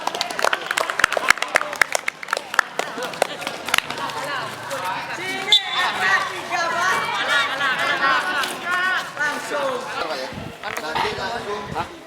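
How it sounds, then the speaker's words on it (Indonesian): Students at an outdoor relay-race athletics lesson clap together, a brief burst of applause at the start, then lively overlapping chatter and shouting from the group continues. "tepuk tangan dulu"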